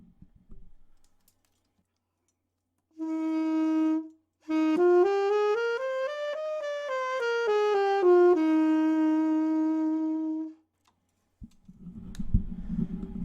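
A wind instrument plays alone: one clear held note, then a smooth phrase that rises and falls before settling on a long tone.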